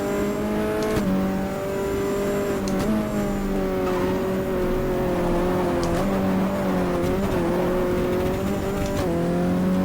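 An Aston Martin GT race car engine in the GTR2 racing game at Fuji Speedway holds a steady high-revving tone, rising and dipping slightly through gear changes, loud and continuous.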